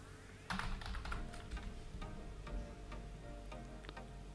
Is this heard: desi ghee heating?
no